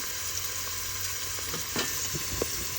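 Ginger garlic paste fries in oil until browning, a continuous soft crackling sizzle with a few scraping stirs and light knocks toward the end, close and fairly quiet, no voices.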